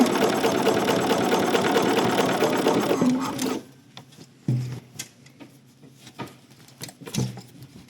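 A sewing machine stitching a shoulder seam on a vintage style top, a loud steady run of rapid stitching that stops after about three seconds, followed by scattered handling clicks and bumps.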